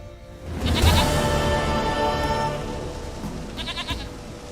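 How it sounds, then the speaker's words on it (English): A goat bleats loudly and close, one long wavering call followed by a shorter second bleat near the end, with nothing else audible around it. "Goat of mine, dearest, sweetest goat."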